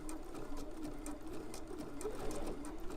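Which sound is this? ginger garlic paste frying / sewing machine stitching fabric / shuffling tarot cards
sewing machine stitching fabric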